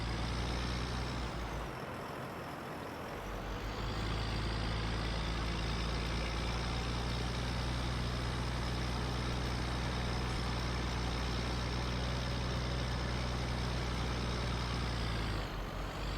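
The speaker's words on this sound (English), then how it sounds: "We're just zoomed way out because this tractor is like crazy loud." A tractor engine in the Farming Simulator video game drones loudly and steadily for the whole stretch, with a brief dip in tone early on and no voices over it.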